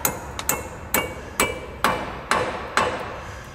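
A hammer strikes a metal roll pin about seven times in a steady rhythm during a 1997 Subaru Legacy front axle replacement, each blow a sharp, close ringing clank.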